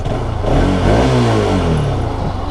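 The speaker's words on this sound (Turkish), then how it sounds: "Bir kere gaz verebilir miyim?" Motorcycle engine revving hard on a street, either a Bajaj RS200 or Honda CBR 250, loud and close, with a sustained rising and falling throttle blip and no talk.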